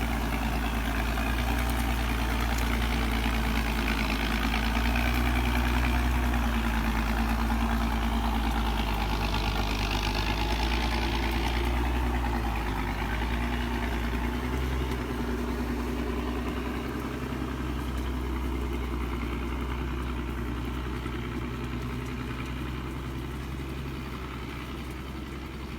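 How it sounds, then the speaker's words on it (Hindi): A heavy truck loaded with acacia wood idling in a forest: a steady, low, rumbling engine drone that holds for nearly half a minute and slowly fades slightly, with no voices. "छह इंजन वाले ट्रक बबूल की लकड़ियों से लदे हुए थे"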